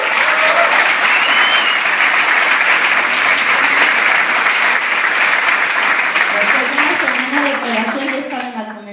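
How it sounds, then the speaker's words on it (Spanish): Sustained, loud applause fills a seminar hall as an audience claps together, dense and steady before tapering slightly near the end, with voices rising faintly beneath it. "Es un fuerte aplauso."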